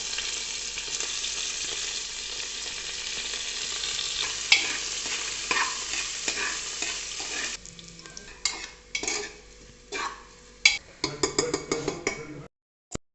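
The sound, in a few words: garlic, ginger and onion frying and being stirred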